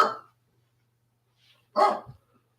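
A single dog gives two sharp, loud barks about two seconds apart, close by, with quiet between them.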